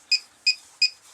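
Winegard SensarPro antenna beeping in scan mode: four short, clear electronic beeps at an even rhythm, about a third of a second apart, close and alone.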